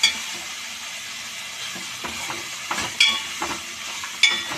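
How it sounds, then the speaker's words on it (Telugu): Ivy gourds (dhondakai) frying in a pan, giving off a steady close sizzle broken by a few sharp clacks and scrapes of stirring. "కొంచెం పచ్చికాయలు వేగాలి కదా"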